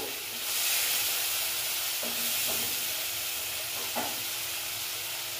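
Spices for a katla fish curry sizzle steadily in a hot pan, with a few soft scraping stirs cutting through the constant frying hiss.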